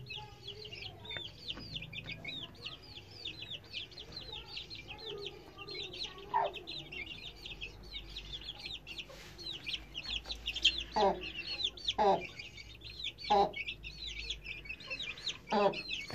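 Three-week-old Indian Gurk chicks, blue-colored, cheep in a high, steady twitter throughout, with brief louder calls and several sharp thuds or knocks near the end against low background hum.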